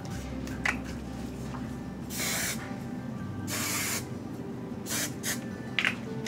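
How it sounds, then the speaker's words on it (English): Hairspray hissing onto hair in short spurts: three or four broadband bursts of a second or so each, close by, over a quiet room murmur with no speech. "So I'm going to hairspray that so it doesn't fall out"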